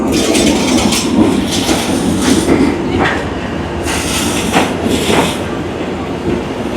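Loud rumbling of a Vietnam Railways train arriving at a station in Da Nang, close by, a continuous roar of wheels and carriages with hissing and rattling, steady throughout.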